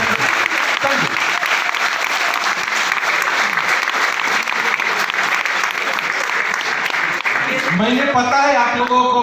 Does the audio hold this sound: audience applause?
yes